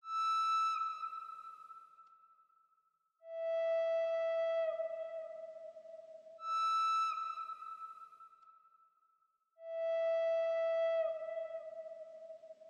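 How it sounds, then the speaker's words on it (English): A breathy, whistle-like dolphin flute one-shot sample plays a slow four-note melody, alternating between a higher and a lower pitch, each note swelling then fading. "which is a dolphin flute"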